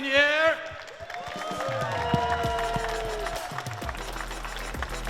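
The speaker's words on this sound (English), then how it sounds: "One more time, applause to everybody being here" An audience at a gaming expo stage at Comic Con Baltics applauding, with scattered clapping and cheering from a crowd under loud, lively voices and music-like tones, steady through the clip.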